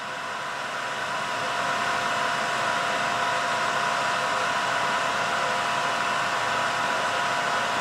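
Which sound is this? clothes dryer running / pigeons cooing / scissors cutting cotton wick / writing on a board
clothes dryer running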